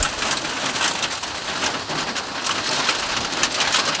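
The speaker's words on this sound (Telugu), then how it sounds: "వడగళ్ళు పడుతున్నాయి." Hailstones clatter on the roof of a roadside stall during a hailstorm, a steady, dense drumming with rain-like hiss that fills the whole stretch at close range, no voices.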